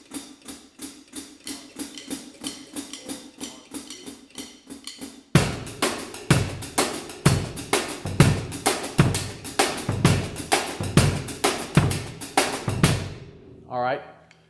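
Drum kit shuffle with quarter-note triplets on the hi-hat: a steady, evenly pulsed pattern of close hits that grows noticeably louder and fuller partway through, then stops with a brief ringing tail.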